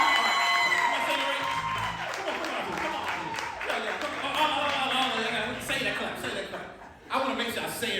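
Audience at a coffee shop cheering and clapping for a live soul band, mixed clapping, whoops and chuckles under a talking emcee.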